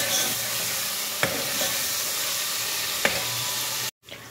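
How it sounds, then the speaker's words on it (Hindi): Garlic frying in a pan of oil, a constant close hissing sizzle with two brief knocks of a utensil, then the sound cuts off abruptly near the end. "बस इसको एक मिनट के लिए हल्का सा बस लहसुन में फ्राई करना है"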